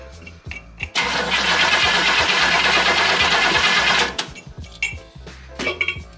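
A small engine with a tiny two-barrel carburetor and electric choke cranks briefly, then catches and roars loudly and steadily for about three seconds before cutting out into sputters and knocks.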